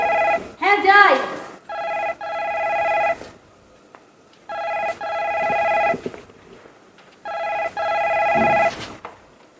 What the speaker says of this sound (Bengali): ফোনটা একটু ধরো না গো।